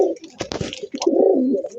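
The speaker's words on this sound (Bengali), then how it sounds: "এখানে একজোড়া গিরিবাজ কবুতর আছে" A pair of tiger giribaj pigeons coo close by, a soft throaty burbling broken by a brief flurry of scuffling movement, then a longer rolling coo.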